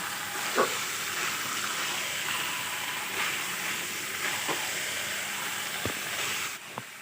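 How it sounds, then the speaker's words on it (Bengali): Chicken and spices are stirred and fried in a pan with a continuous, moderate sizzle, broken by a few soft scrapes and knocks of the spoon against the pan at irregular intervals. "মাংসটা আর মশলাটা ভালোভাবে নেড়ে নেব"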